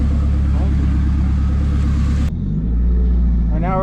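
A turbocharged K24-swapped EG hatchback idles and pulls away, its steady loud engine rumble shifting pitch midway as it starts driving, with people talking over it.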